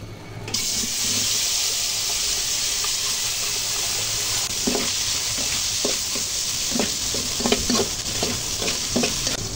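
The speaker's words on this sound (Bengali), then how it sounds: "টাকি মাছগুলো ভেজে নেওয়ার জন্য তেলগুলো অ্যাড করে নেব" Taki fish frying in hot oil in a pot, a steady loud sizzle throughout with intermittent stirring clatters growing more frequent toward the end, no voices.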